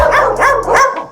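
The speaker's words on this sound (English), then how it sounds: "the dogs are telling me it's time for cookies" Dogs bark in a quick run of three short, loud barks close by, eager yips with a slight whine, heard alone without talk.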